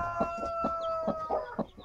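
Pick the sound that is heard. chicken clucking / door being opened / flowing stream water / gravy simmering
chicken clucking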